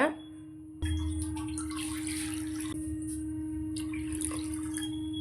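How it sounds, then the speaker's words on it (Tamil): Water poured into a pot of rice and lentils for Pillaiyarpatti modak, a steady trickling and splashing stream that starts abruptly and runs on at moderate level with faint drips. "அதுக்கு டபுள் மடங்காக மூணு கப் அளவுக்கு தண்ணி சேர்த்துக்கோங்க"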